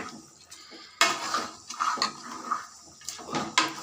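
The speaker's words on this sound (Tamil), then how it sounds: "உப்பு சேர்த்து நல்லா கிளறி விட்டுக்கலாம்" Mutton chukka being stirred with salt in a pan, the spoon scraping and clattering against the metal in repeated irregular strokes, close and fairly loud with no talking.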